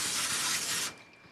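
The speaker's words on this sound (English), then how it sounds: "we're going to spray the bottom of our pan" Cooking spray hisses onto the bottom of a baking pan in one steady, close burst lasting just under a second, then cuts off to a quiet room.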